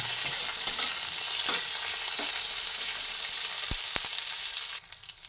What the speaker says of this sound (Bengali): সব কাজু কিশমিশ আখরোট সবই আমি এর মধ্যে দিয়ে দিলাম ড্রাই ফ্রুটগুলো সব দিয়ে দিলাম দিয়ে ভেজে